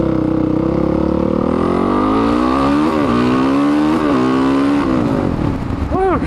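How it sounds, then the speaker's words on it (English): A Suzuki DRZ462 motorcycle with an MRD exhaust rides past loud and close, its engine rising and falling through repeated revs and gear changes, with a voice briefly heard over it. "you can hear the MRD. It's definitely louder than the Yoshi."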